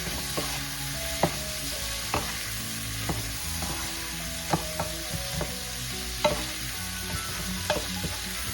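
Garlic and pork sauté over high heat in a pan for a pork stew with shrimp paste, giving a constant close sizzle with regular sharp taps of a utensil stirring against the pan.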